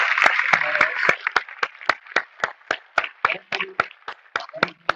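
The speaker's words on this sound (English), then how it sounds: "Have a big round of applause for the speakers still here." Audience applause for the speakers at the closing of an Angular panel event, with sharp, distinct claps rising out of a dense wash of clapping throughout, loud and close, while a voice talks over it.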